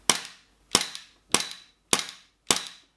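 Five sharp, snappy shots from a WE SIG Sauer P320 M17 gas blowback airsoft pistol fired at an even pace, each a crisp crack with a short metallic ring, close by and with no talking.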